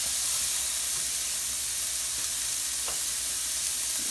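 Onions fry in a pan with a steady, close sizzle and hiss that holds constant throughout, with no voices over it.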